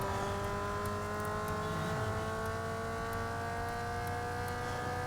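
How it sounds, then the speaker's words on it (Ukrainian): A steady, sustained car engine drones while driving in the video game Need for Speed Underground 2, its tonal whine holding evenly at a high pitch with a brief dip in pitch partway through, with no talking. "Подивимось, як машина тепер стала їхати."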